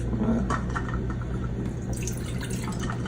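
Water, 2.5 cups, pours into a cooking pot for rice in a home kitchen, a steady splashing, dripping wash running the whole time at close range.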